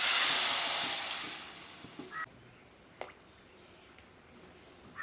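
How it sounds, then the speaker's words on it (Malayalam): A loud hiss of water poured into a hot pan of spice powder for a fish curry, fading over a couple of seconds into quiet with a few small clinks. "പൊടിയുടെ പച്ചമണമൊക്കെ മാറിക്കഴിഞ്ഞിട്ട് നമുക്ക് വെള്ളം ഒഴിച്ചു കൊടുക്കാം"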